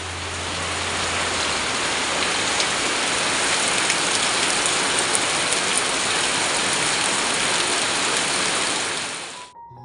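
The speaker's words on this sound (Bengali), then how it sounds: "দেখো কত বৃষ্টি হচ্ছে।" Heavy rain pouring steadily on a wet day, a dense, loud, unbroken hiss of downpour on surfaces that lasts nearly the whole stretch before cutting off abruptly at the end, with no voices.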